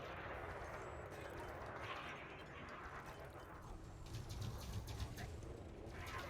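Multi-cannons firing during space combat in a video game, a dense, continuous stream of rapid gunfire and impacts that runs through the whole stretch and swells louder near the end.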